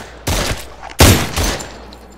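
Two heavy, close shotgun blasts in the VR shooter SURV1V3, spaced about three quarters of a second apart, each a loud booming crack with a short rumbling tail, then a quieter thud as it fades.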